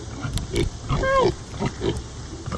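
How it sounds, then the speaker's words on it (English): A registered Berkshire pig on a family farm grunts close up, a few short low oinks with one rising squeal in the middle, alongside a voice. "So we have Berkshire breed of pig on the farm."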